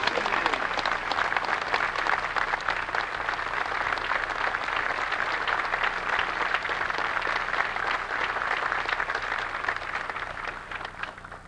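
A large crowd at The Citadel's Class of 1989 graduation ceremony claps in a loud, sustained wave of applause that holds steady and begins to thin toward the end.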